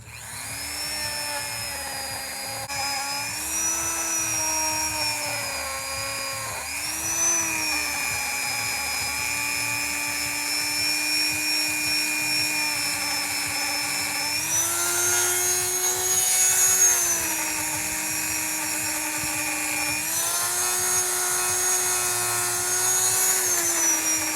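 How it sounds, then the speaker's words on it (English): A Dremel rotary tool with a buffing wheel buffing the head of an old hatchet, a continuous high whine with a steady motor tone that shifts slightly in pitch under varying pressure, close and uninterrupted. "we're gonna come in here with a Dremel with a buffing wheel and buff it"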